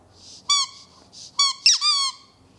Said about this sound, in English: This is actually a squeaky toy.